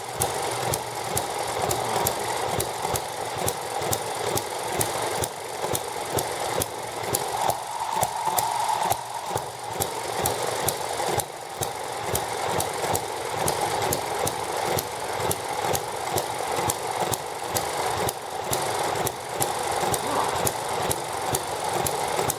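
An ET6/M92 horizontal engine on its first run, fixed to a mounting rail, keeps up a steady, fast, even chugging beat at close range with no talk.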